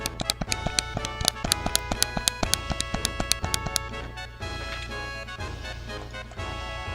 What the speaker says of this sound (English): This is the sound of me mashing circle.